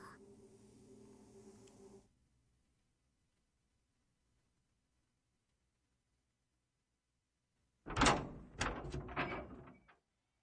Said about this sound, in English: I opened the door to the base and headed outside.